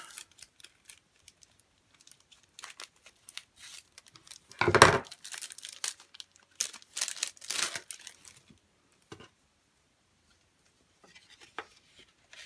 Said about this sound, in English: if I can find how to open it. I'm just going to cut the side.